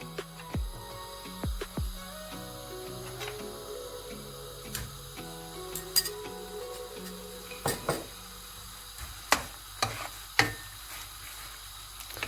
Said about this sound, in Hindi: इसका चम्मच जो हम बराबर हिलाते जाएंगे ताकि बटर इसके अंदर अच्छे तरीके से मिक्स हो जाए